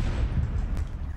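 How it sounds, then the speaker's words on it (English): A loud, low booming explosion in Call of Duty Black Ops 4 Blackout, a heavy sustained rumble filling the short moment without any talk. "I heard an explosion."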